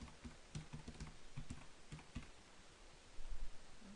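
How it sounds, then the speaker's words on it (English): Fingers type a password on a computer keyboard, a quick run of light, uneven key clicks and taps at close range, with no talking, then a brief louder rustle of handling near the end. "this is where I would type the new password"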